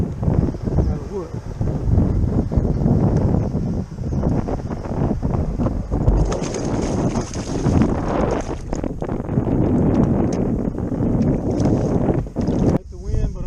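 Strong wind buffets the microphone on open water during a fishing outing, a loud gusting rumble throughout with voices talking over it.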